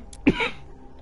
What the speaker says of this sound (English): Also, I would like to not cough,